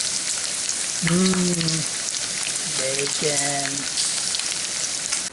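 Bacon frying in a cast iron pan for a breakfast quiche, giving a loud, close, continuous crackling sizzle, with short bursts of a voice speaking partway through.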